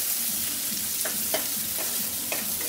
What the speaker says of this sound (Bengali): এটাকে আমি 2 মিনিট মতো 2 থেকে 3 মিনিট ফ্রাই করছি।